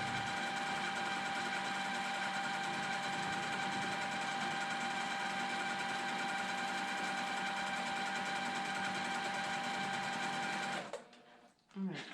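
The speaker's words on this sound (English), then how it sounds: "I'm just going to pull up my threads, a few stitches, and then quilt" A domestic sewing machine runs steadily for free-motion quilting of a Moda Blockheads 3 quilt, its close, continuous stitching hum holding for about eleven seconds before stopping abruptly, followed by brief faint handling noise.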